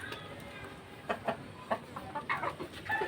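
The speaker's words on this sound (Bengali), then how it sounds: "এই যে মুরগি, মুরগি রে" A chicken on a rooftop clucks in short, close bursts that grow busier toward the end, with faint background noise and a little voice in the scene.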